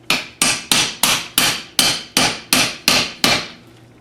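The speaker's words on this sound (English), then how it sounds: "Now I'm going to get these bearings tapped in the rest of the way." Hammer taps on a pipe tool drive bearings into a Thunderbolt A2-4M siren blower during a rebuild. There are nine sharp metallic strikes at a steady, even pace, close and loud, and no voices.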